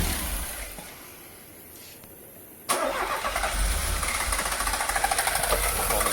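A Peugeot 205 GTI, previously fixed for non-starting and idle control faults, cranks and fires: a quiet lull, then a sudden loud catch into a rough, pulsing idle close by.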